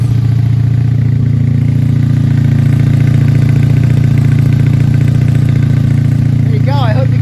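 A 1984 Honda V65 Sabre VF1100S, an old carbureted motorcycle, idles steadily after a cold start at the beginning of the season, with a loud, close, continuous low rumble and a brief chirp near the end.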